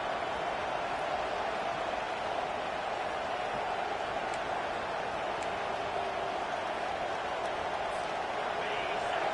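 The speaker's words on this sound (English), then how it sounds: "Listen to this crowd just shaking the girders of this place, trying to help their defense." A large crowd roars steadily in a big football stadium during a Virginia Tech game, a dense, continuous wall of noise with no pauses, heard from a distance.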